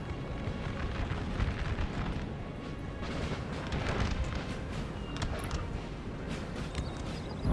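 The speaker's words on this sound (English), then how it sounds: "Now, I was just firing at the English cavalry, I think." Dense, sustained artillery fire in Napoleon Total War, aimed at English cavalry, with overlapping booms and a constant rumbling roar, loud and unbroken throughout.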